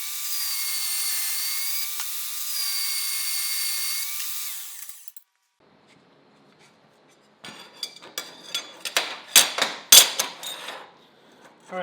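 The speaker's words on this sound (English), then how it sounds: "It's hot rolled, and I'm just gonna slice this up with the bandsaw." A bandsaw cutting hot-rolled steel flat stock gives a steady whining tone for about five seconds, then stops. After a near-silent gap come close, sharp metallic clanks and knocks of handling.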